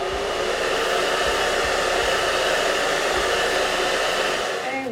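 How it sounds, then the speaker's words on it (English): A handheld hair dryer blows steadily and loudly up close, an even continuous whoosh with motor hum, used on a deep wave lace wig install, with no talk over it. "Take your dryer."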